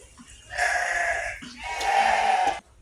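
Goats bleat in a pen in two long, loud, wavering calls, the second rising after a short pause, with faint farmyard background.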